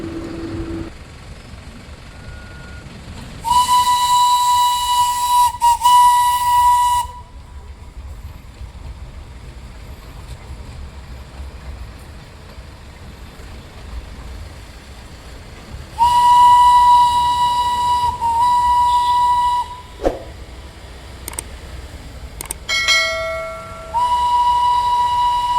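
Darjeeling toy train, a steam railway on a narrow hill street, sounds two long loud steady whistle blasts a dozen seconds apart, followed by shorter toots, over a continuous rumble of the passing train.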